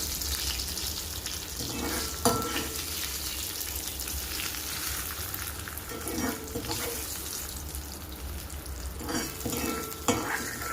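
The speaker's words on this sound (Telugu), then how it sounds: "ఇప్పుడైతే తాలింపుని ఇందులో వేసేస్తున్నాము." Hot tempering sizzles and crackles as it hits a pot of sprouted horse gram dal, with stirring scrapes and a few sharp bursts, close by and steady.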